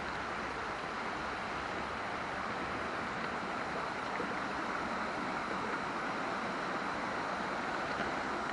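Water rushes steadily out of the hills into the Ogden reservoir near Mixenden, a continuous broad wash of flowing water mixed with wind, close and unbroken, with no voices.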